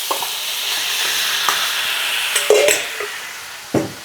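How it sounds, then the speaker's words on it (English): Marinated pork ribs with garlic and ginger hitting hot oil in a wok and sizzling steadily up close, with a few sharp clanks and scrapes of stirring against the pan. "Now we're gonna dump in our ribs."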